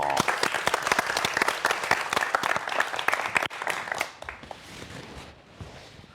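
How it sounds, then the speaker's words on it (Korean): Enthusiastic audience applause at a science lecture fills the room with dense clapping, then gradually thins out and fades toward the end. "큰 박수로 환영해 주십시오"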